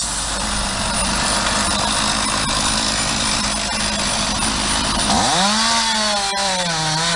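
A chainsaw roars loud and close, cutting a notch in a tree during removal work, holding a steady high drone before the engine pitch drops and wavers near the end.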